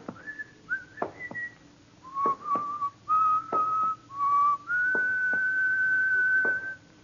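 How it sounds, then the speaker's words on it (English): A man whistles a song in short phrases, a few quick notes followed by longer held tones, clear and alone against a quiet background. "what's the name of the song that guy is whistling?"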